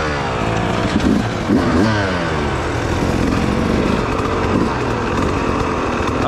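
Motorcycle engine on a dirt trail, running steadily and rising in a couple of rev sweeps, close and loud with a rough, continuous drone throughout.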